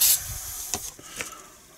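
A short hissing burst of CA glue kicker activator sprayed onto a pen blank in a workshop, followed by a few faint clicks and rustles.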